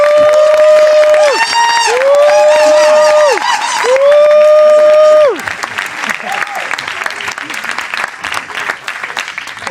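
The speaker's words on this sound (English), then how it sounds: "if you agree with Tina, give a round of applause for Tina" Audience applause and cheering for Tina after a debate round, loud and dense for roughly five seconds with shrill whistle-like tones riding on top, then dropping to a lighter, scattered crowd noise.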